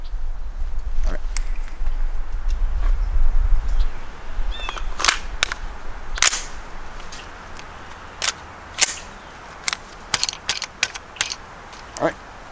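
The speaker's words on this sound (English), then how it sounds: "we're just going to pop 6 rounds off as fast as we can into the target accurately" Six rapid shots are fired at a target from a low ready, heard as a quick cluster of sharp cracks in the second half, following a stretch of low rumbling and handling noise.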